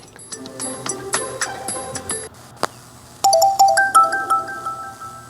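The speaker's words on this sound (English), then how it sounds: "Even got a little hold music." A short electronic hold-music jingle from a Jurassic Park pinball machine: bright, bell-like synthesized tones in quick melodic runs, pausing briefly before a second chiming phrase.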